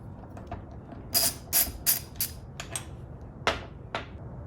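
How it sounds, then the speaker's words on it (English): A 12mm socket wrench turns two screws off a roof rack on a Lexus GX470, giving a few short, sharp metallic clicks and clanks in quick succession, fairly close and moderately loud. "I'm going to go ahead and remove these two screws. So I'm going to do that right now. And it's a 12mm socket to get that out."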